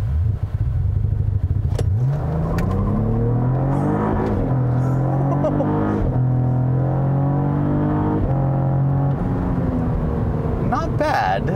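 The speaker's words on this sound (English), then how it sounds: "The first thing I want to try, the launch control." A 2022 Cadillac CT4-V Blackwing sedan with the 10-speed automatic does a launch-control start, its engine revving loud and climbing steadily through gear changes, with some wheel hop, all close and constant.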